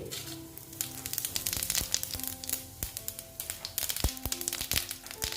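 Whole cumin seeds sizzle in hot oil with close, quiet crackling and popping, and a few clicks and taps of a utensil against the pan.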